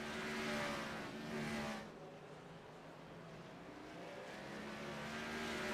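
Stock race cars circle the North Wilkesboro track in a racing game, engine drone steady and loud with a louder pass early on, then easing and building again.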